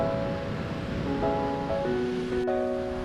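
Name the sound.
Caribbean Sea waves breaking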